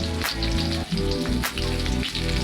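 Cooking oil sizzles steadily in a pan at the start of a bamboo shoot curry, a continuous close crackle with a faint repeating tonal hum underneath and no talking.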